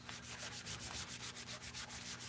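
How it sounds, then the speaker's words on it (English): Wet paint swatch being wiped down with water, a steady rhythmic rubbing of about a dozen quick back-and-forth strokes, close and fairly quiet, with no talking. "We just take a little water and"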